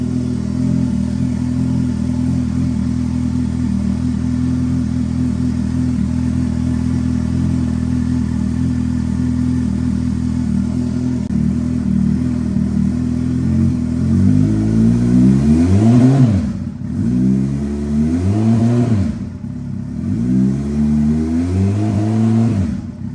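A turbocharged Suzuki Hayabusa motorcycle fitted with a Schnitz auto shifter idles with a steady loud rumble, then revs up hard through several rapid rising pulls broken by quick shift dips.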